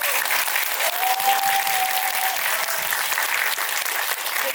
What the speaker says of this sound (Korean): 박수 한번 주셔야 돼요